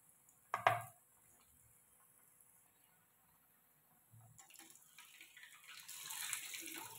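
Kothimbir vadi, coriander fritters, fry in a pan with a steady hiss that swells louder toward the end, after one sharp clink near the start; no one speaks.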